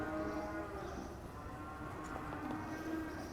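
Cattle mooing in a busy outdoor cutting-horse setting, with low drawn-out bellows over steady background noise.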